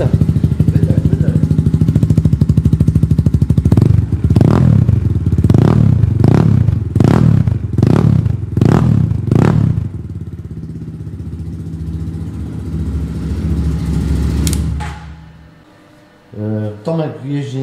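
Chinese-made motorcycle with a European-branded design, engine idling then revved in a series of sharp exhaust blips, loud and close, settling back to a steady idle before cutting out near the end.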